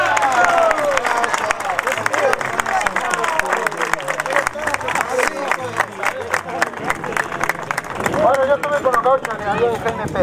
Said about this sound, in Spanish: Le damos fuerte aplauso.